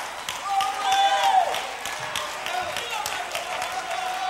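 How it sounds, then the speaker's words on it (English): A preacher claps his hands during an Easter Sunday church sermon, with steady rhythmic claps mixed into crowd noise and a ringing hall, under ongoing talk. "You may think I clap funny."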